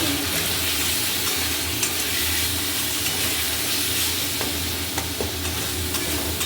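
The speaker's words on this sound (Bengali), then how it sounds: "এবার এর সঙ্গে তুমি এটাকে কষিয়ে নিতে হবে।" Masala sautéing in a pan: a loud, dense, unbroken hiss of frying close by, with faint scraping stirs mixed in and no one talking.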